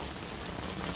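Heavy rain falls in a dense, even hiss of countless drops striking a surface, loud, close and steady throughout, with no voices.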